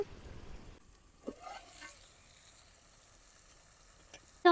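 Spiny gourd pieces fry with onion, ginger-garlic paste and turmeric in an outdoor farm kitchen, giving a faint, soft sizzle broken by a few light stirring scrapes and clinks.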